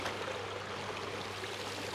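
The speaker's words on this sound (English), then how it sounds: "there's the pondless waterfall made out of the aqua blues" Water trickles and splashes steadily down a pondless waterfall built from aqua blue stone in a UK garden, producing a constant close, even rush with no pauses.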